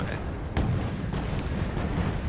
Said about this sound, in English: I think they're just cannons.